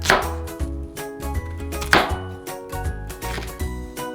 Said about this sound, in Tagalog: Hiwain lang natin bago ilaga ito.